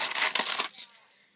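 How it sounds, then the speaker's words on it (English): A handful of dirty coins, Australian 20-cent pieces, clink and jingle as they drop into a coin tumbler holding water and salt, close and bright for about a second before fading. "I'm now going to get some of my dirty coins."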